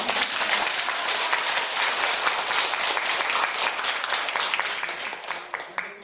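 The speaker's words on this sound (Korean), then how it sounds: "아주 훌륭한 박수 한번 칠까요?" An audience claps loudly and continuously at an indoor lecture, dense sustained applause from many hands that thins out slightly toward the end.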